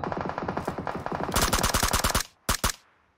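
Rapid automatic gunfire from a PUBG Mobile match, a dense run of loud shots growing heavier and faster, a brief pause, then two final sharp bursts.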